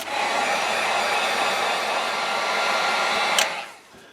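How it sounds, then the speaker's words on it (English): A heat gun drying paint on a bluegill-patterned fishing lure gives a loud, steady blowing whoosh that runs unbroken, then cuts off with a brief click near the end. "we're going to dry this with a heat gun good before we start taking that wrap off."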